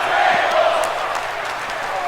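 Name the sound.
wrestling crowd chanting for tables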